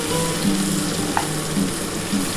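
Prawns fry in hot oil for a chilli prawn recipe, giving a continuous crackling sizzle broken by a soft utensil clink and low intermittent tones.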